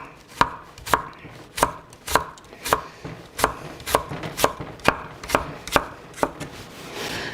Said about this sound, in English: I'm just going to slice this on the bias